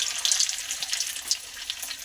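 Chicken kachori dough dropped into hot oil, a steady bright sizzle and bubbling hiss running close and continuous with small crackling bursts throughout.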